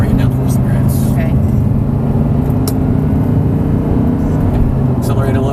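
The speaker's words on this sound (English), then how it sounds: "Back down, and you can start accelerating a little bit harder." An Audi R8 on a race track gives a continuous low engine rumble as it accelerates, steady and close, heard beneath an instructor's voice coaching the driver.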